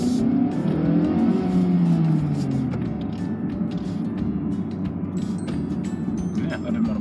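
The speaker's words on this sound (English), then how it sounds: "you can still hear the exhaust note quite nicely" A 2019 Mazda3 accelerates from inside the cabin, a low engine and exhaust drone rising in pitch over the first couple of seconds and then settling into a steady hum, with people talking over it.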